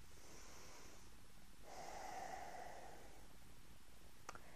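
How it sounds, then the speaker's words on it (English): A slow, deep inhalation of breath during a calming exercise, fairly quiet and close, with a soft airy rush that swells in the middle and fades, followed by a faint click near the end. "Take a deep breath in."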